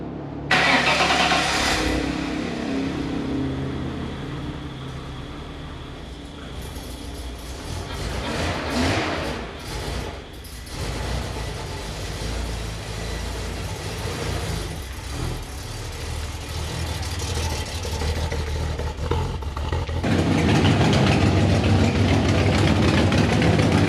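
A Holden VN SS Commodore car engine fires up and settles into a steady idle, loud and close throughout, with a revving surge toward the end and no talking.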